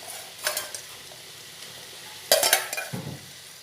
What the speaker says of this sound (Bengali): কুমড়ো আলুটা খুব ভালোভাবে কষিয়ে নেব। এরই মধ্যে দিয়ে দেব এই ভেজে রাখা ইলিশ মাছের মাথা।